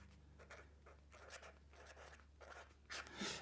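Pen writing on paper, quiet scratchy strokes in short bursts over a low steady hum, ending in a slightly louder scribble, no speech.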